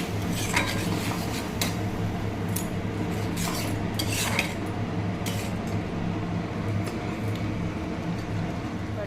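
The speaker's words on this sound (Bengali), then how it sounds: "দিয়ে মশলাটাকে আবার একটু কষিয়ে নিচ্ছি" A spatula scrapes and stirs spice masala, loosened with a little water, in a pan for a bottle gourd and prawn dish, giving steady close clinks and scrapes over a low constant hum.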